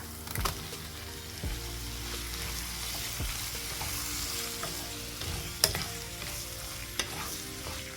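Chopped pineapple sautéing in hot oil with ginger for a quick pickle, a steady sizzle with occasional stirring scrapes and a couple of sharp clinks throughout.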